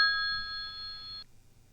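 A telephone ring sound effect in an old radio play sounds once as a steady, bright electric tone lasting about a second before cutting off abruptly into quiet.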